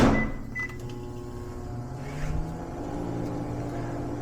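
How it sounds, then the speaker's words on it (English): A kitchen microwave oven runs for a short reheat, giving a steady low hum with faint tonal whine after an initial click, sustained and fairly quiet with no talking. "Throw this in the microwave for 30 seconds."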